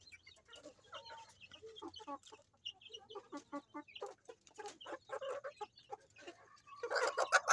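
Silky crossbreed chickens cluck and chatter nearby in quick, uneven bursts, with a louder flurry of calls toward the end.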